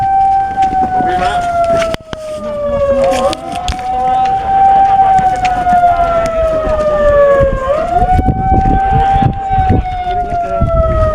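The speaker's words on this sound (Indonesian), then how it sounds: "sirine masih berbunyi untuk memberitahu seluruh pekerja agar mendengar untuk berkumpul di titik kumpul" A loud wailing emergency evacuation siren at an industrial site during an emergency drill, Inalum Kuala Tanjung, Indonesia, rises and falls in long sweeping cycles, with wind buffeting the microphone and faint voices underneath.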